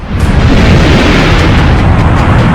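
A meteor air burst erupts as a huge, loud, sustained explosion, a dense low roaring boom that swells almost instantly and keeps rumbling without fading across two and a half seconds.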